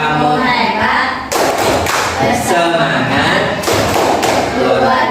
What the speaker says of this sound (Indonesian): Kalau begitu kita berikan tepuk apresiasi ya.